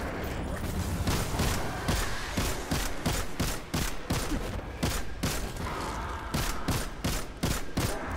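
Enemy gunfire in the Destiny 2 video game, played live on PC: rapid, loud bursts of shots crack out continuously with sharp repeated reports, and a voice may sit faintly underneath.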